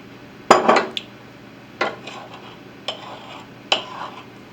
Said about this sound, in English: I'm adding vegetable base to the mixing bowl